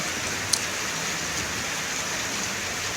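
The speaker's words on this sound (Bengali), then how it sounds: "আমি ভাবিনি এত বৃষ্টি হবে" Steady, dense hiss of heavy rain falling without a break on a village cattle farm, with a single faint click early on and no voices.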